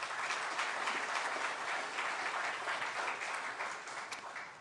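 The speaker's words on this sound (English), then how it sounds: "So why don't we give our panelists a round of applause." An audience at a health conference gives the panelists a round of applause, a steady wash of clapping that holds evenly and begins to fade slightly at the end.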